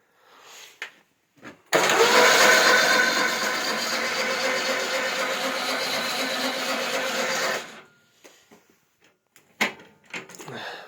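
A homemade tractor with a VAZ 21011 engine starts and runs loudly up close for about six seconds, then cuts off, followed by a few scattered knocks and clatters.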